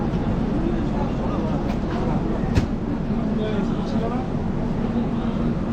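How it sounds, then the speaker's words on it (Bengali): Kamrup Express train coming to a stop at Ambika Kalna's platform 3, heard from inside a coach as a steady low rumble with a brief clunk partway through, under continuous background chatter and noise. "অম্বিকা কালনার এই 3 নম্বর প্ল্যাটফর্মে আমাদের ট্রেন এসে দাঁড়িয়েছে।"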